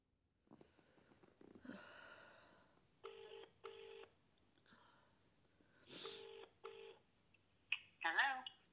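A phone dials with several short beeping tones, then rings in spaced bursts, heard close and fairly quiet, with faint breathing between.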